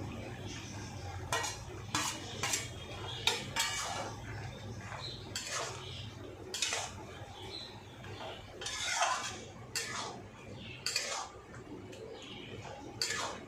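Eggs added to potatoes in a pan for a fried potato-egg dish, stirred with a spatula: repeated scraping and clinking of utensil on metal in irregular bursts over a low background hum, fairly close, no talk.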